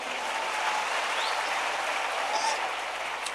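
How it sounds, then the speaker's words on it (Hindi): Steady applause from an audience at a school quiz contest fills the space, a continuous moderate wash of many clapping hands with faint background chatter. "इन दोनों साहबान के लिए ज़ोरदार तालियां होनी चाहिए"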